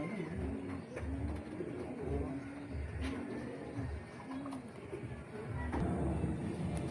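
Pigeons coo softly and repeatedly outside a pigeon loft, a low rolling murmur of several birds layered over steady outdoor background noise.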